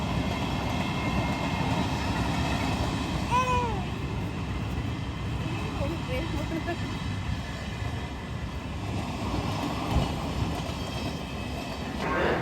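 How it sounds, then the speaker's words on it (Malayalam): A train rumbles past steadily and continuously near a temple, with a faint rhythmic clatter and a brief high animal-like squeal partway through. "അമ്പലത്തിൻ്റെ ട്രെയിൻ പോണത്"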